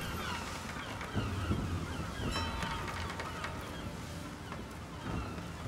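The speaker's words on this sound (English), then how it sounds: "I'm hearing seagulls, so I think we're near the shore." Seagulls cry near the shore in Assassin's Creed III, several short squawking calls scattered over a steady windy backdrop, fairly faint and with no speech.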